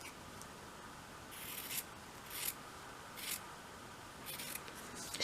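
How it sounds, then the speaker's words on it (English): Scissors trim fabric around the hem of a small dolls house cushion, giving about five crisp, close snips spaced a second or so apart over a steady quiet background. "just trim off around the outside edge"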